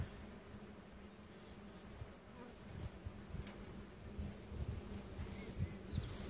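Honey bees buzz steadily around an open hive as a frame is lifted for inspection in an April apiary, a soft continuous drone with faint wing whines rising and falling close by.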